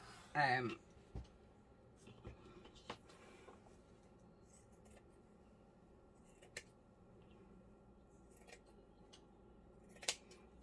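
Scissors cutting paper pieces for a journal, a few faint soft snips and rustles spaced apart in a quiet room, with a brief louder scrape at the start and a voice talking quietly.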